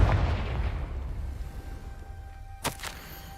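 A Confringo blasting spell from Hogwarts Legacy goes off as a sharp, close explosive burst with a short crackling tail, rising out of a low rumbling game ambience.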